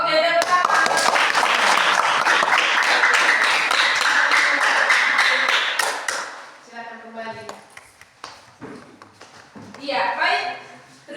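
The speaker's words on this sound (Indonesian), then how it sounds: "Oke, tepuk tangan." A classroom of students claps for their classmates' group presentation, lively close clapping for several seconds that fades out, followed by a teacher speaking.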